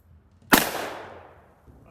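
A Chiappa Rhino 30DS revolver fires a single 140 grain Barnes round outdoors: one sharp, loud, close report followed by a fading ring of echo.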